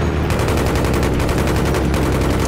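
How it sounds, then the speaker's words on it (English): Continuous rapid machine gun fire in Battlefield 3 on a mountain map, loud and steady with a fast even rhythm throughout, no talking over it. "So I switched over to the little machine gun."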